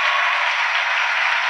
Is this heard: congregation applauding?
yes